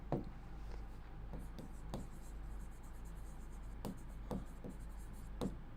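Marker or chalk strokes scratch across a board in short, irregular taps and scrawls, faint and close in a quiet room.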